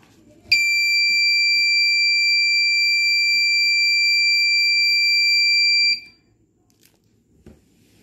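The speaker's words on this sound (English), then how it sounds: "when the board will shake, the alarm will go off" A school science-project earthquake alarm sounds as a loud, steady electronic beeping tone for about five seconds, then cuts off abruptly into a quiet room.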